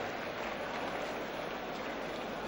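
A distant football crowd at a 1969 Barnsley versus Tranmere Rovers match applauds a good attempt on goal, producing a steady, hissing wash of clapping with no distinct individual claps.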